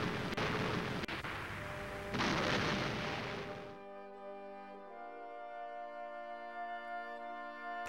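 Soviet massed artillery fires in a battle sound effect, with a loud, dense rumble of bursts and booms for several seconds before it fades into a steadier tonal background.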